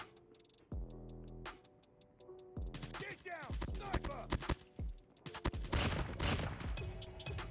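Rapid gunfire from a KN-44 rifle in Call of Duty Mobile, quick bursts of crisp shots mixed with clicks and game effects, growing busier toward the end, with some speech mixed in.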